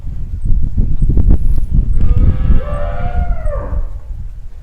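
A Sahiwal cow lets out one long, low moo nearby, following some rustling and thumping.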